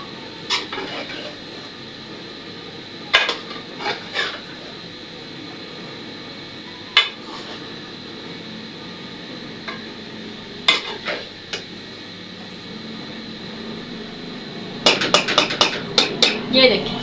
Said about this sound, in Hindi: ये देखिए जी चावलों को हमने हिला दिया